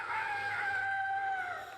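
Farmyard fowl voice, tagged as rooster crowing rather than hen clucking, rings out loud and close in one sustained drawn-out call of nearly two seconds with no talk.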